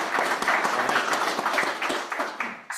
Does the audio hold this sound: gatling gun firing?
no